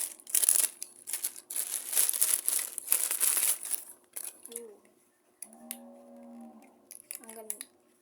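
A small package opened while unboxing, with crackling plastic crinkles and rustling up close for several seconds, then quieter handling while a voice speaks briefly.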